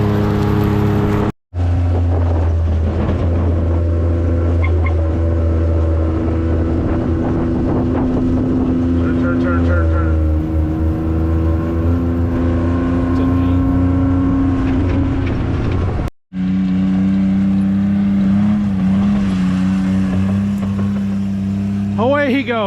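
A farm vehicle drives through a field, a loud continuous engine rumble with shifting tones, wind buffeting the microphone, and a voice talking over it partway through.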